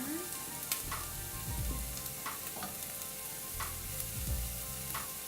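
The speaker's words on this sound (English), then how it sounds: "it's starting to soften, which is exactly what we like. Let these simmer." Bell peppers and onions simmering in a pan give a steady close sizzle and crackle, with occasional scrapes and stirring clatter running through it.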